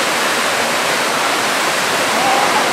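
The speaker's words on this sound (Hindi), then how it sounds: "ये है वो वाटरफॉल जिसके बारे में मैंने आपको बताया था।" Bhatta Falls waterfall in Mussoorie roars as a dense, constant broadband rush of falling water, loud and close, with no pauses.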